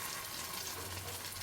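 A tortilla crisps in a hot frying pan for chicken tacos, giving a steady close sizzle and hiss through the whole short stretch.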